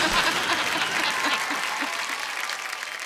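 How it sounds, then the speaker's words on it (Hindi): Studio audience on a comedy talk show breaks into loud, sustained applause welcoming the evening's chief guest, a dense wash of clapping that holds steady for about three seconds and tapers slightly at the end. "जोरदार से ताली से आप उनका स्वागत करेंगे"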